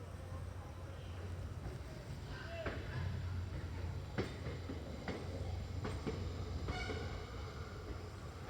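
A train pulling out of Hassan junction on the line toward Mangalore: a steady low rumble of rolling wagons with scattered squeaks and clacks, heard from on board at moderate level, no speech.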